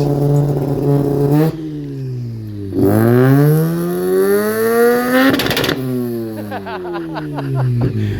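A Chrysler 300 with a slight misfire revs hard and close in repeated rising and falling sweeps, with a burst of rapid popping crackles near the end.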